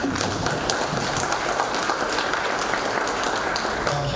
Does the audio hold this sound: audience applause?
yes